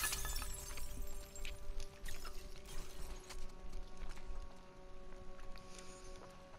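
Glass shatters in the video game The Last of Us Part 2, a sharp breaking crash with scattered tinkling bits over a steady low game ambience, no talk over it.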